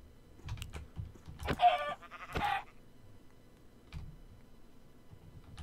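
Sheep in Minecraft let out two short, close bleats in the middle of a quiet stretch, surrounded by soft clicking and tapping.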